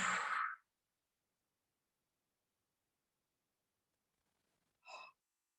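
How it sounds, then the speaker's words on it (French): A slow, deep breath drawn in through the nose during a sophrology relaxation exercise, followed after a long quiet pause by a short, soft breath out through the mouth. Both are close and faint, with no talking. "on prend une profonde inspiration par le nez. Et on souffle bien par la bouche."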